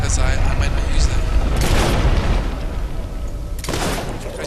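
Gunfire in the video game Fable 3, heavy booming bursts rolling over a dense game soundscape, with a loud volley around the middle and another sharp burst near the end, all under talk.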